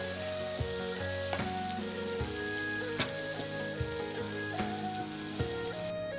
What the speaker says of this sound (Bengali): পেঁয়াজ লঙ্কা একটু ভালো করে ভাজা হয়ে গেলেই তাতেই এই চিংড়ি মাছটাকে ভালো করে নেড়ে চেড়ে ভেজে নিতে হবে লাল লাল করে।